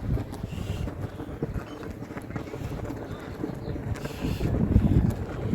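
Wind blowing along the shore of Lake St. Clair in Michigan, a steady rough buffeting rumble across the microphone that swells louder toward the end, with no voices.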